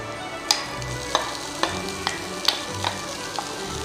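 Onions roasting in a hot pan, a continuous sizzle punctuated by regular spatula scrapes and taps against the pan, close up with no talking.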